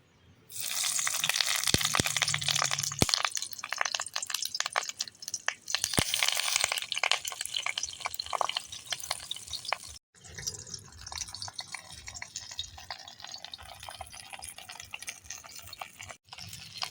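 Eggplant paturi pieces are laid one by one into hot oil in a wok and sizzle with a bright, crackling spatter that keeps going, dropping briefly before resuming.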